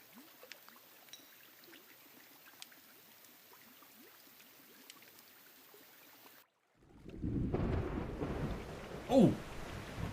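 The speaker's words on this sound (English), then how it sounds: "Oh, the storm." A thunderstorm with heavy rain in the game Diluvian Winds rolls in suddenly after a quiet stretch, a dense loud roar of rain with one sharper thunder crack near the end.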